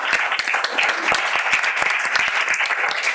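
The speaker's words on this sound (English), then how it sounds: "let's give them a big round of applause" Audience applause at a Massachusetts Governor's Council district debate: dense, steady clapping from a crowd, close and continuous throughout without a break.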